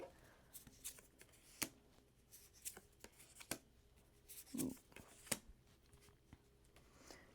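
Tarot cards being cut and drawn from a deck, a run of soft papery slaps, riffles and clicks spaced irregularly at close range, with no talking.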